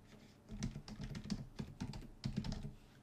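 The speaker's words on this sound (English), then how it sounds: "I'll just type that into the address bar" Fast keystrokes on a computer keyboard while a website address goes into a browser's address bar. They come in quick bursts of close, crisp clicks with short pauses between the runs.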